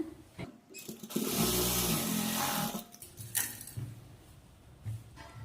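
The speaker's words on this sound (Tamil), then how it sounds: "கிளாத்தை திருப்பிட்டு மேலே வந்து டாப் ஸ்டிச் வந்து போட்டுக்குங்க" A sewing machine running a top stitch along a blouse seam, one steady burst of motor whir lasting about a second and a half, close and fairly loud, with quieter handling noises before and after.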